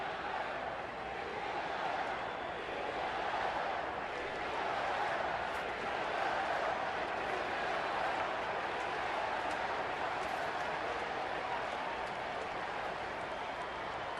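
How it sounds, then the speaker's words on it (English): Dense, steady roar of a baseball crowd at an Arizona–Los Angeles game, with a broad wash of massed voices that could be an organic chant of "Beat LA", sustained and distant for the whole stretch. "Crowd starting to chant "Beat LA" out there"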